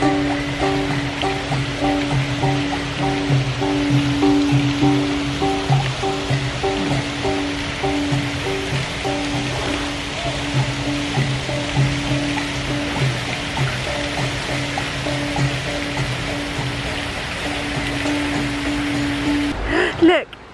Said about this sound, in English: Look, I'm in the pouring rain